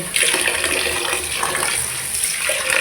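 Water gushing steadily from an opened tap at a home sink, a continuous hissing splash that stays loud and even throughout, with no talking.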